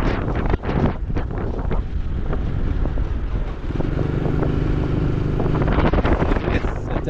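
Strong wind buffets the microphone in heavy, rumbling gusts, with a low engine-like drone underneath.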